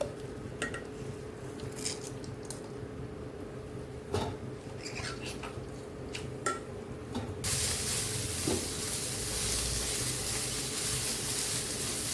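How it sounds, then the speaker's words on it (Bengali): Boiled, squeezed soybean chunks fry with salt and turmeric in a pan, with scattered scraping and utensil clinks under a low hum, then a steady, louder hiss of frying for the last few seconds. "এখন একটু নুন হলুদ দিয়ে ভেজে নেব।"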